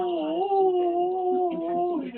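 A dog lets out one long, lonely howl that wavers in pitch and holds for a couple of seconds, close and moderately loud, with no other voices.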